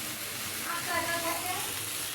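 Small fish frying in a pan, a steady soft sizzle and hiss running through the whole stretch, close and moderately quiet.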